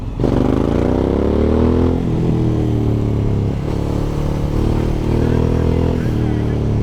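A Suzuki V-Strom 1000cc adventure motorcycle being ridden, its engine droning loud and close with rising pitch through each gear before dipping at shifts, a steady strong hum throughout.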